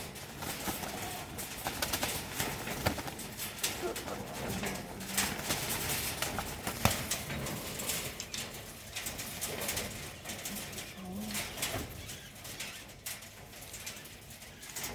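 Soft pigeon cooing repeats against a busy, rustling background, with occasional flutters and bursts of movement throughout.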